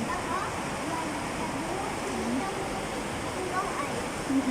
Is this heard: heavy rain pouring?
yes